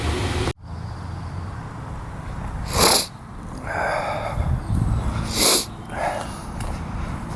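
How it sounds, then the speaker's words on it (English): Two sharp, close sniffles, a few seconds apart, with quieter rustling and low background noise between them. "About the sniffling, allergy season."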